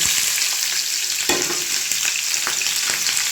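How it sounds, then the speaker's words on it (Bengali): Prawns for butter garlic prawn fry in hot oil over a high flame, giving a loud, steady, close sizzle with scattered sharp crackles and spits throughout and no talking. "তেলটা গরম হয়ে গেছে, এরপর চিংড়ি মাছগুলো দিয়ে দেব"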